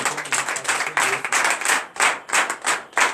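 A congregation at a morning prayer service in Benin claps loudly in acclamation to God, with dense overlapping rhythmic clapping in waves and a faint voice or tone underneath.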